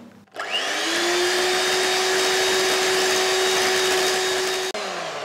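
An electric beater whips cream with strawberry sauce, spinning up to a loud, steady motor whine that holds for several seconds before a brief dip near the end.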